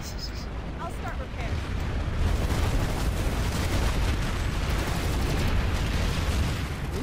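Continuous dense gunfire and explosions from a Planetside 2 battle, loud bursts packed closely together with booms layered underneath throughout.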